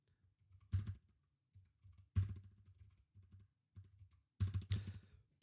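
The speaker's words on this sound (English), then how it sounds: "Place your hands on the keyboard." Bursts of close, rapid keystrokes clatter on a computer keyboard, separated by short pauses, with a few louder clusters and no talking.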